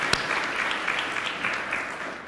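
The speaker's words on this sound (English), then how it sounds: "We should probably give him one more round of applause." Keynote audience at Breech Week 2023 applauding steadily, a dense wash of many hands clapping at even volume for a couple of seconds with no voices on top.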